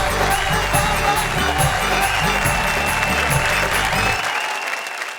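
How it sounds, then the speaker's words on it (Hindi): Audience at a Hindi poetry recital applauding loudly and steadily, a dense wash of clapping close by that fades out at the end. "जोरदार तालियों के साथ हम स्वागत करें"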